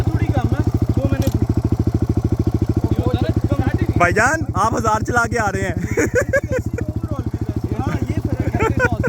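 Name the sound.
dirt bike engine running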